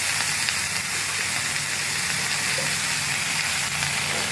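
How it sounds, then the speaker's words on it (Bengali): Pieces of pointed gourd (potol) sizzle steadily in the leftover oil of a pan, a loud, continuous frying hiss with no pauses. "যেটুকু তেল আছে ওর মধ্যে দিয়ে দেবো পটলগুলোকে ভাজার জন্য দিয়ে দিচ্ছি"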